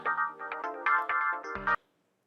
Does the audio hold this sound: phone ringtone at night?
yes